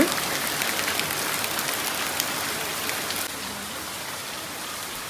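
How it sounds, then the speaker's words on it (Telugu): Steady heavy rain pours down around a traditional courtyard house in a dense, continuous hiss, easing slightly partway through but never stopping. "ఇక అసలు పగలు లేదు రేత్రి లేదు ఒకటే వర్షాలు"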